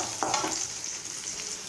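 Onions sautéing in a pan for idiyappam kurma, a steady close sizzle and hiss with a few brief stirring scrapes near the start, no voices.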